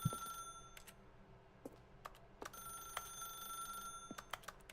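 A telephone rings repeatedly in the video game The Stanley Parable, in short bright bursts separated by pauses, faint and heard alone.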